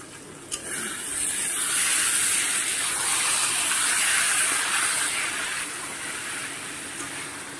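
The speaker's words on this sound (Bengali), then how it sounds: "এবার এই বাটির জলটা ঢেলে দেবো রাজমাটা দেওয়ার পরে।" Water from a bowl poured into a hot pan of rajma with salt and turmeric, giving a loud steady sizzling hiss that builds quickly after a brief splash and holds for several seconds before easing.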